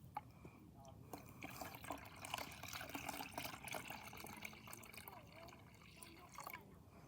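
Warm water is poured into a container for radish pickles, a soft, uneven trickle and splash that runs for several seconds, quiet and close.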